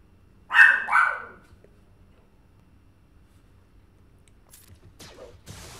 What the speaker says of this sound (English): If the dogs bark mid-battle, I am going to mute this so you guys don't have to hear that high screech.